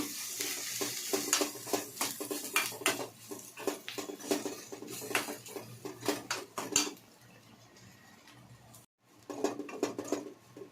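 Grated coconut being sautéed in a pan for mutton curry, a utensil clinking and scraping against the pan in quick irregular strokes with a soft sizzle underneath; no one speaks.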